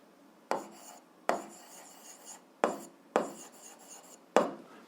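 A pen scratches out a math solution for an isosceles triangle problem in short, rasping strokes, five separate bursts with brief pauses between them, close and fairly quiet, with no talking.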